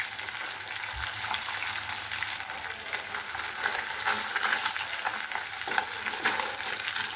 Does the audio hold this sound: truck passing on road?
no